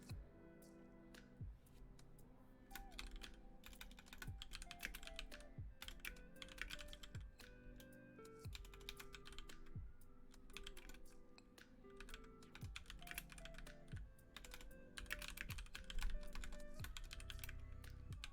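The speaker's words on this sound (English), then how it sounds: "Keyboard ASMR." Steady typing on a computer keyboard, a dense run of clicky keystrokes going on for the whole stretch at close range, with no voices over it.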